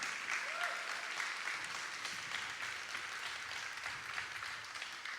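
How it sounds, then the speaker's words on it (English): A crowd at a proclamation ceremony gives a round of applause for an Olympic silver medalist in surfing. The clapping is steady and even throughout but sounds faint and somewhat distant. "How's about a round of applause for her again?"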